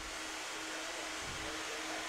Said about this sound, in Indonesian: kita bisa gunakan hair dryer dengan suhu medium ya untuk membantu mengeringkan